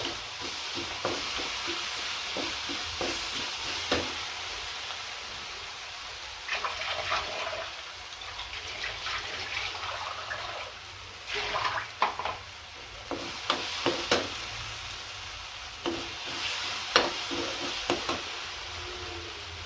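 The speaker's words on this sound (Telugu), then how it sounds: "ఒక స్పూన్ అల్లం వెల్లి పేస్ట్ అండి పచ్చివాసన పోయేంత వరకు ఫ్రై చేసుకోవాలి" Ginger garlic paste frying and being stirred in a pan for a green pea masala, a steady low sizzle with intermittent scraping stirs and clinks of a spoon, fairly close.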